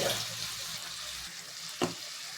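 Lentil and egg fritter curry being sautéed in a pan, a soft continuous sizzle with a brief clatter or stir near the end, fairly quiet and close.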